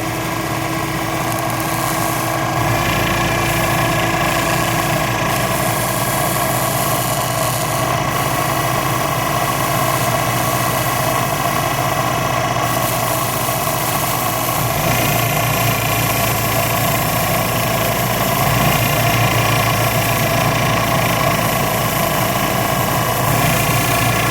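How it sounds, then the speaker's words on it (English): A small electric motor in a home-built project runs at a steady speed, controlled by a light dimmer. A loud, continuous droning hum holds evenly throughout with slight shifts in tone and no speech. "Get the motor started here. You can see it's already turning."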